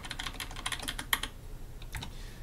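Rapid typing on a computer keyboard while writing code, a quick burst of clicking keystrokes, then a pause and a few more taps, close and fairly quiet.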